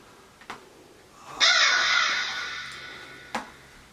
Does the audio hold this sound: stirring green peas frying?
no